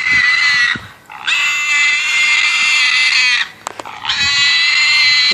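A pig on a leash in a garden lets out loud, piercing squeals in two long bursts split by a brief pause, close and shrill.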